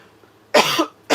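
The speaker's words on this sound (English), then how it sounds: "I apologize for coughing," Two sharp, close coughs from one person in a quiet room, the first a double burst and the second starting just as the moment ends.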